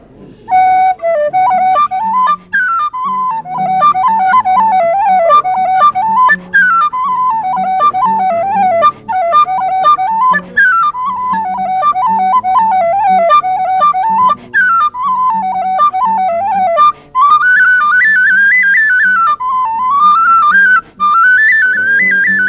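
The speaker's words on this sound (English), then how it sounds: "And now Noreen McCarthy on the tin whistle will hopefully oblige us." A tin whistle plays a lively melody live in a pub in Macroom, a steady run of bright, high ornamented notes with short breaths between phrases, close and clear and carrying alone.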